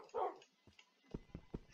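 Dogs in Minecraft give a short yip and then a quick series of soft, faint barks and whimpers, spaced irregularly and heard alone.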